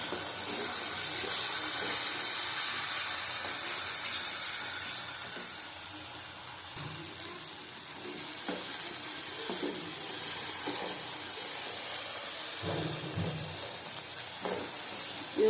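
Spices and turmeric fry in hot oil in a pan with a soft, continuous sizzle and hiss, broken by occasional light stirring scrapes, fairly faint and with no talking.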